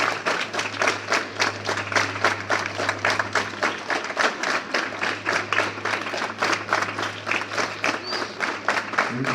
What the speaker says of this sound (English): Keep your hands up and clap.